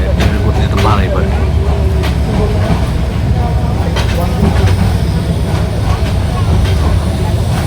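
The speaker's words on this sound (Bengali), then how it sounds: "এই জন্য ট্রেনটা গতিবেগ করতেছে না। তো এই জন্য ধীরে ধীরে যাচ্ছে।" A passenger train on the Dhaka to Cox's Bazar route rolls slowly, giving a loud, steady rumble with faint rhythmic clicks from the wheels, heard from on board.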